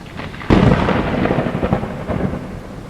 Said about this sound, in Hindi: बाहर धीरे धीरे बारिश भी हो रही थी